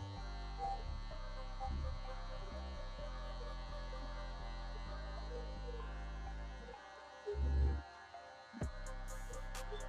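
An electric hair clipper on a number 1 guard with the lever open buzzes steadily through a fade haircut, a close, quiet hum that cuts out briefly near the end.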